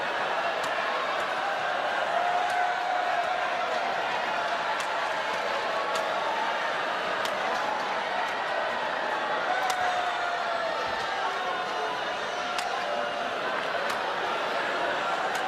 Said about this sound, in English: Yeah, some boos from the crowd.